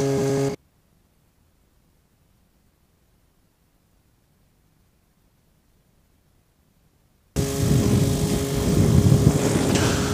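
ELA gyrocopter in flight, its engine and propeller giving a loud, broad droning roar, heard briefly at the start, then after a long stretch of silence, returning steady for the last few seconds.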